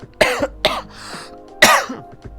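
Three sharp, harsh coughs from the video game Coffee Talk, close to the listener, spaced unevenly, with a quieter breathy rasp between them.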